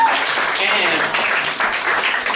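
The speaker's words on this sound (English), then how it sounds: "Give him a round of applause." A roast battle comedy audience gives a round of applause, a dense wash of clapping with voices and cheers mixed under it, steady and fairly close.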